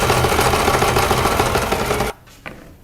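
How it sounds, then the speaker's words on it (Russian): Sewing machine stitching lace trim onto a doll's garment runs in a steady, loud mechanical whir for about two seconds, then stops abruptly, leaving near silence with a faint tap. "И также будем пришивать по верхней части тесьмы."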